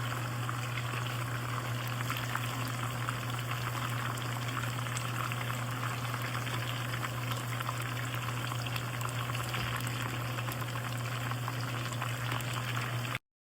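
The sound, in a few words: chicken frying in oil in a small pan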